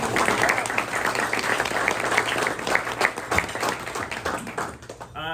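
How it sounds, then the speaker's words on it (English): Sustained round of applause from a full room at a Santa Barbara press luncheon, dense clapping steady throughout and tapering near the end, with some voices mixed in. "Let's give him a round of applause."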